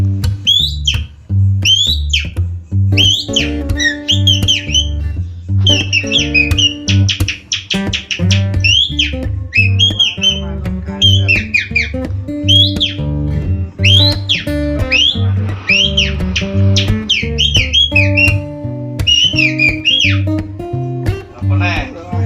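Oriental magpie-robin (kacer) song, a varied run of bright chirps, whistles and trills repeated throughout, loud and close, over steady low background music or hum with no talking.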